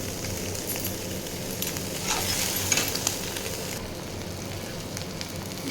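Chili and turmeric powder sizzle steadily in hot oil, with a continuous crackling hiss and occasional scraping as the spices are stirred in a pan, no voices.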